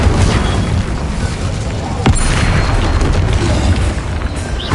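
An Incendio fire spell is cast in Hogwarts Legacy on PS5, a dense, loud roaring blast of fiery noise with a sharp crack about halfway through that sustains throughout.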